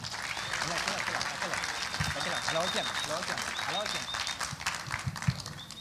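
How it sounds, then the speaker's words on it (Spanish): A church congregation applauding, a dense, continuous patter of many hands clapping with voices mixed in throughout, steady in level from start to finish. "Denle un aplauso fuerte al Señor."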